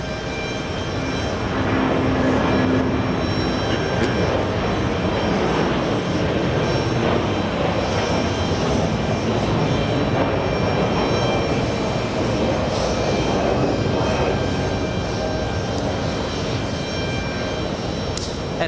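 A Brussels Airlines Airbus A330 jet takes off at JFK Airport, its engines a loud, steady, broad roar that holds for the whole stretch with no voices.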